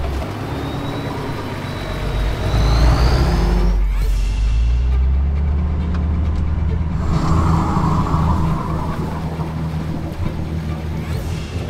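A 4WD vehicle crawls in low first gear across a flooded stretch of the Old Telegraph Track, its engine droning loudly and steadily with water sloshing around it and a brief shift in tone midway.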